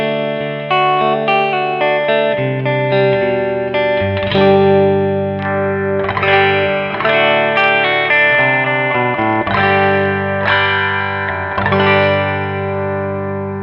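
A guitar plays through a Dumble-style ODS 40 amp set very clean and recorded via a Two Notes Torpedo Captor X. Sustained chords ring out with roughly half a dozen changes, close and steady, and no one talks.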